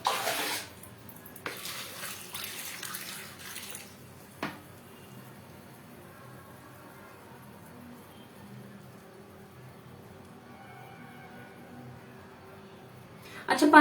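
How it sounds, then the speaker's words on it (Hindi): Water poured onto a potted cane palm, a soft trickle and splash into soil, faint and intermittent, with a few louder clunks of handling at the start and end. "इसको देते हैं पानी।"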